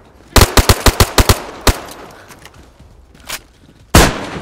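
A rapid burst of loud gunshots fires in quick succession in the video game DayZ, followed by a lone shot and another sharp blast after a brief pause.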